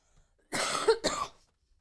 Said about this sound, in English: Can you hear me coughing?